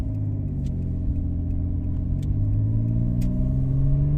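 A stock Renault Clio V6 engine idles and builds revs, a steady low rumbling drone with rising harmonic tones and occasional faint clicks, heard alone without talk.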